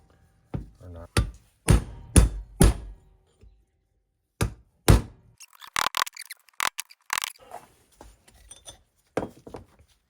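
Hammer tapping a wheel bearing race into a trailer hub, a series of sharp metallic knocks in small clusters, some loud and close, others lighter and quicker, with brief pauses between groups.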